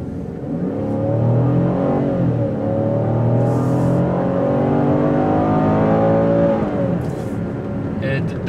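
A 2015 Chevrolet Malibu V6 LTZ engine drones and climbs steadily in pitch as it accelerates, a smooth continuous rumble heard from inside the cabin.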